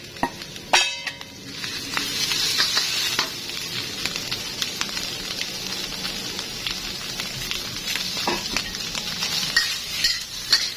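Fatty beef stir-fries with lemongrass in an iron wok: steady hissing sizzle with metal spatula scrapes and clanks against the pan, sharp knocks at the start and scattered strikes throughout.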